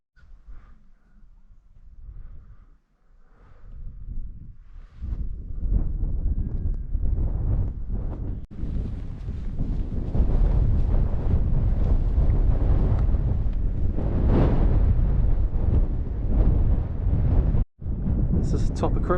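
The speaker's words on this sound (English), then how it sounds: "It's pretty light winds really." Wind gusting across the summit of Pen y Fan mountain, buffeting the microphone in a loud, sustained roar after a quieter start, with a voice talking over it at times.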